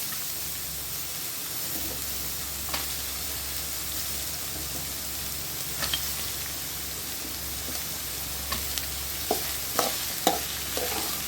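Chopped onions sauté in a pan for banana stem chutney with a steady, close frying sizzle like rain on a surface. Occasional spatula clicks and scrapes grow more frequent toward the end, and nobody speaks.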